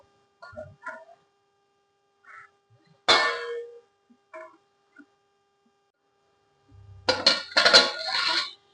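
A metal lid clangs onto a pot of jeera rice with a sharp ring, followed by faint kitchen clinks and a louder rattle of metal near the end.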